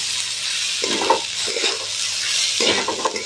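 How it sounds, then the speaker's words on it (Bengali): Rice sizzles in hot ghee in a heated pan, a steady frying hiss with a few scraping stirs as the grains are tossed, close by and without talk. "চালটা দিয়ে দিয়েছি, ভালো করে ভেজে নেবো।"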